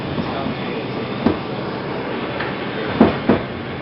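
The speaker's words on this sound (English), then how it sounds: "This is a Manhattan-bound 5 local train." A Manhattan-bound 5 local train on the New York subway runs through the Bronx near Intervale Avenue. It gives a steady rolling rumble with several sharp clicks and clanks from the rails, and voices talk faintly over the noise.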